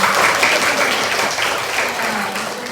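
Classroom of students clapping for a student group, a loud, dense burst of applause that holds steady and eases slightly toward the end.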